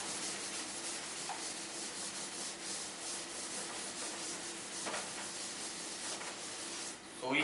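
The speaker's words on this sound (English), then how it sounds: "So first we'll rub this side again." A board being rubbed clean with a duster during a coordinate geometry lesson, a continuous close broadband scrubbing swish that runs unbroken for several seconds, no speech.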